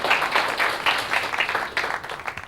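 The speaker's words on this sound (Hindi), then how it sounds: "अच्छा, तालियां।" Classroom applause from students, a steady patter of many hands clapping at close range, lasting a couple of seconds and fading slightly toward the end.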